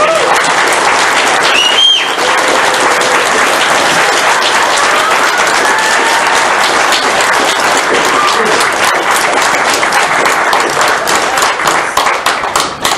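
An audience applauds loudly after a talk, a dense, sustained wall of many hands clapping that keeps going evenly and fades slightly at the end.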